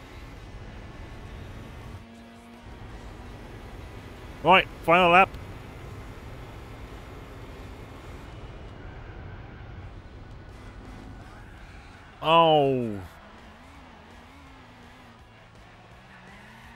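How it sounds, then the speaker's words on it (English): A Mercedes SLR fitted with a modified exhaust races in Gran Turismo 4, its engine a steady drone, broken by two short tire squeals and a longer squeal later on, while someone talks over it. "Right, I've got the SLR. It sounds a modified exhaust."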